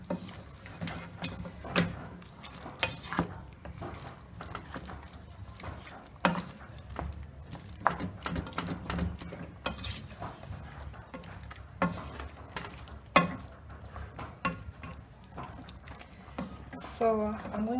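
A garlic and ginger mixture stirred in a pan while making beef masala, with scattered scraping clicks and soft taps of the spoon against the pan over a faint sizzle, fairly quiet and irregular.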